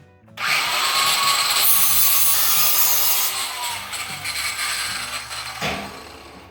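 A power tool grinds and shaves metal from a piece of a 32-inch round fire grate before welding, a loud rough whine that starts abruptly, holds for several seconds, then tapers off.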